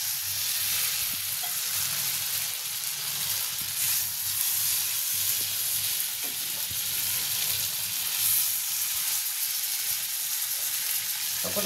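Tandoori chicken sizzles and fries on a generously buttered, brushed tawa, a steady close hiss with a few faint stirring clicks, no talk over it.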